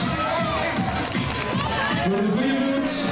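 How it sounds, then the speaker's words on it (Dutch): Crowd at an outdoor Chiro go-kart race event in Londerzeel, 1997, cheering and shouting loudly with children's voices and excited chatter, a busy close crowd din rather than distinct clapping. "wij geven ze toch misschien een applaus."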